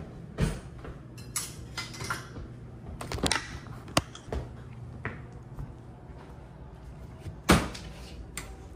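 Kitchen drawer and cutlery clatter as a knife is put away: a drawer slides, then sharp metallic clinks and a couple of hard knocks, the loudest near the start and again toward the end, spaced irregularly in a quiet room.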